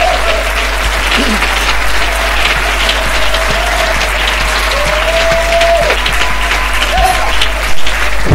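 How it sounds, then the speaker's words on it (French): A church conference congregation applauding loudly and steadily for the Lord, a dense continuous wall of clapping close and strong, with a faint sustained tone and crowd voices underneath. "Acclamez très fort."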